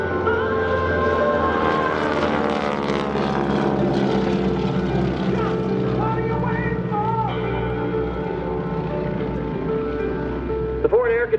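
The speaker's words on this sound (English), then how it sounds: "4 aircraft are now called in to strafe the targets" Propeller aircraft drone overhead at an air national guard open house airshow, a steady sustained engine hum with shifting pitch as they pass, while an announcer's voice talks over it.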